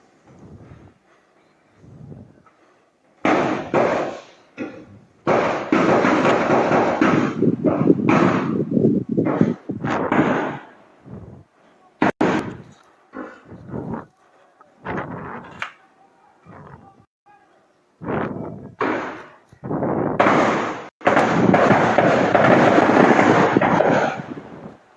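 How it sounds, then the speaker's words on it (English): Guns fired at the gate of a house, with bursts of sharp cracks and rapid volleys that come and go in clusters between short quiet gaps, loud and harsh against a background of distant noise. "They are at his gate, firing weapons, firing guns."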